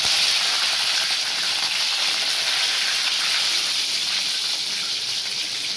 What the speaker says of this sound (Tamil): சோம்பு பொறிஞ்சது ரெண்டு வரமிளகா போட்டுக்கலாம் வரமாக போட்டு கொஞ்சம் கருவேப்பில் கொடுக்கலாம்